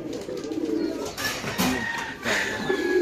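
Pigeons cooing close by, soft low throaty calls repeating in short phrases over a faint background hum.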